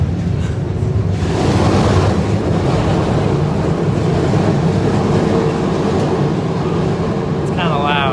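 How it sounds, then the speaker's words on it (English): Riding a trolley in San Francisco: a loud, continuous rumble and rattle of the car rolling along the rails, with wind noise buffeting the microphone, some clickety-clack and a faint high squeal near the end. A voice speaks over it briefly. "We're on the trolley."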